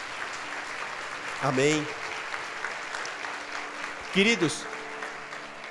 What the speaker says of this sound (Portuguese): dê uma salva de palmas a Jesus por isso